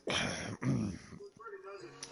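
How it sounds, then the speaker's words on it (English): A person clears their throat and coughs twice in quick succession, close and loud, followed by faint quieter sounds. "sorry for coughing there"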